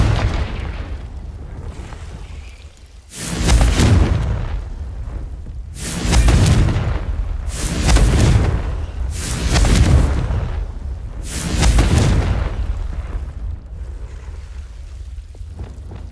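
Repeated Confringo fire-spell blasts from the video game Hogwarts Legacy, four or five loud booming explosions spaced a second or two apart, each with a deep rumbling tail, over a low ambient background.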